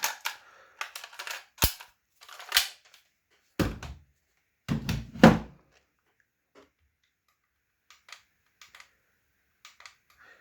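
A toy blaster is loaded and fired, with a handful of sharp plastic clacks and thunks close by, one crisp snap standing out among them, followed by quieter small handling clicks.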